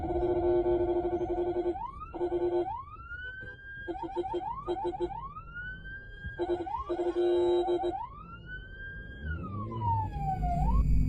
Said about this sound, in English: With sirens blaring, the driver skillfully weaves between cars, squeezing through impossibly tight gaps.